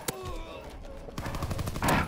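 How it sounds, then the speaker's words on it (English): Rapid pistol gunfire in the Call of Duty WWII video game, a quick string of sharp shots firing almost like a submachine gun, close and loud over game sounds. "That pistol going off like a SMG"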